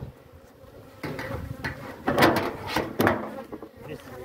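Honeybees buzz around the mother hive during a split into several colonies, a close, wavering drone that swells and fades as bees pass near, with a few soft knocks and shuffles, no speech.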